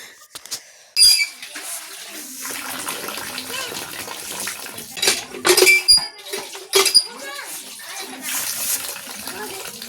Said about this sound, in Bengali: তো চলো আমি এখন ওই জায়গাটা ধুয়ে দিই যেখানে মাছটা কাটলাম।